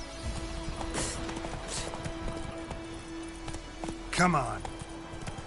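Horse hooves clip-clop faintly in The Witcher 3 as the horse moves along, sitting under a speaking voice and steady game ambience.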